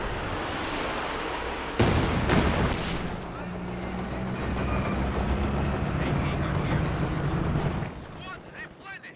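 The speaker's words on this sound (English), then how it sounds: "These Katyushas really starting to hit home." Katyusha rocket artillery in the Company of Heroes 2 strategy game fires and lands as a loud burst of booming impacts, followed by a long rumbling roar and scattered blasts. A commentator talks throughout.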